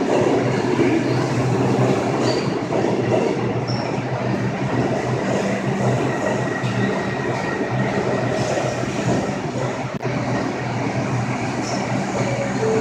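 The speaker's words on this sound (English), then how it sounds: "Train passes 125th." Out-of-service New York City R62 subway train running through 125th Street station on the 6 line track, a loud continuous roar of wheels and rattling cars with faint squeals, steady and close throughout.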